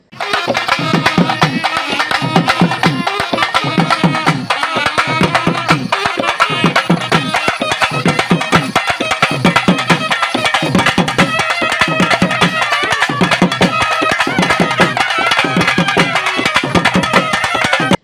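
Large dollu drums pound in a steady, driving rhythm alongside shrill wind instruments, accompanying Veeragase dancing at a village goddess festival, loud and continuous, with no talking.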